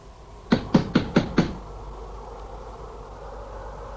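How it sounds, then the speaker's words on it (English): Five sharp knocks on the door of a remote Yorkshire farmhouse in a radio drama, set on a bitter winter day, evenly spaced and fairly loud, then quiet room tone. "I have knocked. I keep on knocking."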